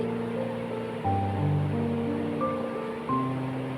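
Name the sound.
onions frying in ghee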